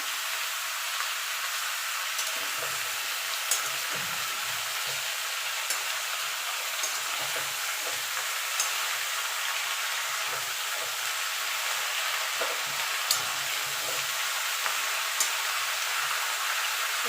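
Mixed vegetables frying under a lid in a pan, a soft, even sizzling hiss that runs steadily throughout with faint scattered ticks and low bubbling, close but muted.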